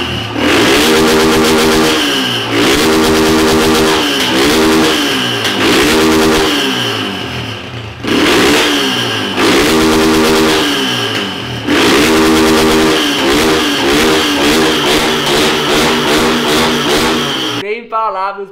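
A modified Start motorcycle engine revs hard again and again, close and loud, each blip climbing and dropping back in a choppy rhythm, with a brief pause between bursts and a sharp cutoff at the end.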